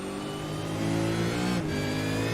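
A V8 Supercar in a sim racing game at Circuit Zandvoort holds a loud, steady engine drone with layered harmonics, dipping briefly before it pulls on again.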